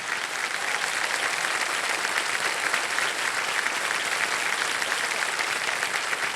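Steady studio audience applause fills a television quiz show set, a continuous dense clapping that stays loud and even throughout with no talk over it.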